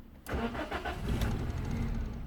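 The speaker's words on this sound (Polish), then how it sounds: "auto odpala dosłownie na sekundkę i od razu gaśnie" A Toyota with a 1.0 petrol engine and fault code P1300 cranks and fires briefly, then keeps a rough, uneven mid-pitched running sound close by for about two seconds.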